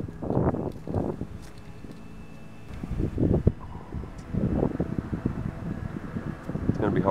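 Wind blowing outdoors while trout fishing, a steady rushing roar against the microphone that runs under someone talking throughout.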